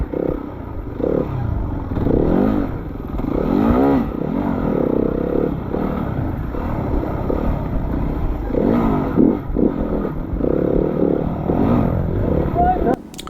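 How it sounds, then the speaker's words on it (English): A dirt bike in an off-road hare scramble race approaches and passes, its engine revving and rising in pitch over repeated throttle bursts, heard under steady talk. "So I heard a bike coming by,"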